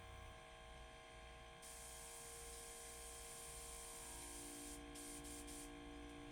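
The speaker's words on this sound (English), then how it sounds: "this compressor is incredibly quiet" A Silentaire DR 150 quiet airbrush compressor running, giving a very faint, steady low hum with a soft hiss, continuous and even throughout.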